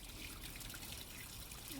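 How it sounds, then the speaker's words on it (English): Water runs into a Sable inflatable swimming pool, model SA-HF071, as a faint, steady trickle with no break. "Now I'm going to go let it run and fill with water."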